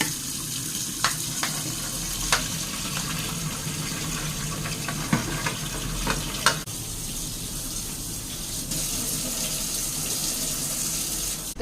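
Water runs steadily from a tap into a sink, a continuous splashing hiss with a few sharp clinks of dishes or utensils.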